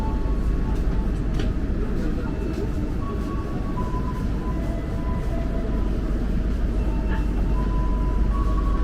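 A KRL commuter train shunts on track 2 at Bogor station, a continuous low rumble of rolling stock with faint squeals and clanks, steady and moderately loud throughout, with station ambience around it.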